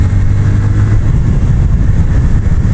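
Yamaha FZ-S V3 motorcycle engine while riding, a loud steady drone with a low hum at first, then rougher and fuller, heard close with constant wind and road noise.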